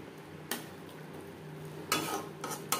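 Spatula scrapes and clinks against a pan as spices are stirred into a Bengali fish tel chorchori, three brief scraping bursts separated by quieter pauses, fairly close with faint kitchen hum beneath.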